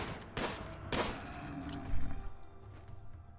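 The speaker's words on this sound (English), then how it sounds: "Shooting." Gunfire in the video game RimWorld, a few sharp shots about half a second apart followed by a rumbling burst, moderately loud with no talk.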